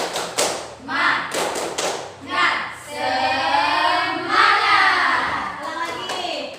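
A group claps hands in a quick rhythmic pattern, the claps alternating with loud children's voices chanting together in Indonesian, a classroom spirit-clap call and response.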